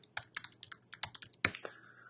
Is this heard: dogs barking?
no